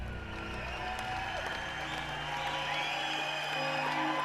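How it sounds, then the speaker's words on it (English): A crowd roars and applauds after George Washington is proclaimed President of the United States, a dense, continuous wash of clapping and cheering that stays loud and steady throughout. "The crowd just roars."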